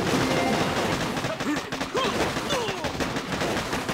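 Mortar fire and explosions in the mobile strategy game Boom Beach, with a dense, continuous barrage of booming blasts under game effects and a voice.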